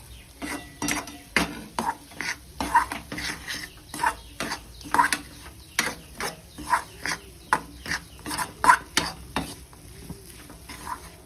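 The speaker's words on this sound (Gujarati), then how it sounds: "હવે આપણે ગોળ એડ કરી દઈશું, અને સારી રીતના આપણે મિક્સ કરતા રહીશું, જેથી એકદમ આપણો ગોળ ઓગળી જાય।" Jaggery stirred into roasted wheat flour in a pan for Gujarati sukhdi, with a spoon scraping the metal in a steady rhythm of regular strokes close by, over a soft sizzle and with no talk.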